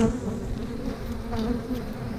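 Honeybees drone in a steady, dense buzz close at hand during an open-hive inspection, continuous and even throughout with no talking.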